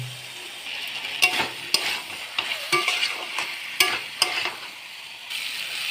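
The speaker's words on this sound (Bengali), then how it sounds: "এবার আমি আলু সয়াবিন ভাজাটা এতে দিয়ে দেবো দিয়ে ভালো করে আলু সয়াবিনের সঙ্গে মশলাটাকে কষিয়ে নেব" Potatoes and soybean chunks are stir-fried in spice masala, a steady sizzle broken by repeated sharp scrapes and knocks of a spatula against the pan, close and moderately loud, with no talking.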